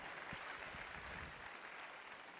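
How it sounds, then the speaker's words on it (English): A convention crowd claps steadily in a dense, even wash of applause, loud and sustained throughout with no voices standing out. "Give them a round of applause."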